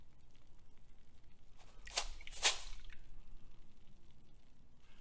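Water drains through a kitchen strainer in a garage during fine gold prospecting, heard as two short wet splashing gushes close by, each a second or so long, over a quiet background.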